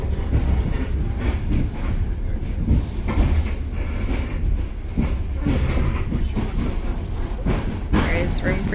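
Passenger train running on rails in Romania, heard from inside as a steady, loud rumble with a faint rhythmic clatter throughout, while people talk over it.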